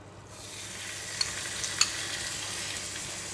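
Minced pork frying in a hot pan of onion oil gives a steady, close sizzle with a couple of faint clinks partway through, and no voices.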